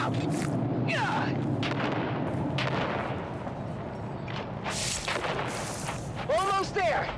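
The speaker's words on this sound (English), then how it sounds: "On 3, we grenade and move! 3, 2, grenades out!" Grenade explosions and gunfire in a military video game, with heavy booms and bursts of shots running throughout and voices shouting over the battle noise.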